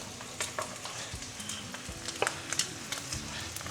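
Sausages and onion browning in a frying pan as tomatoes go in, soft sizzling under scattered scrapes and taps of a spatula, close but quiet.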